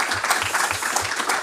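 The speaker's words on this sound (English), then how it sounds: "So please give her a warm round of applause." Audience applause for a guest speaker at a live evening talk event on European rulemaking: a steady wash of many hands clapping, fairly close and continuous, with no voices over it.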